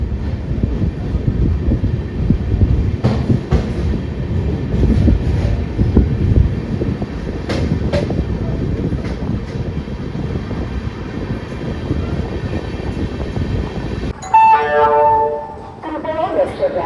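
The 12111 Amravati Express superfast passenger train from Mumbai CSMT runs with a steady, loud rumble and wind buffeting, ending in a brief, clear tonal blast.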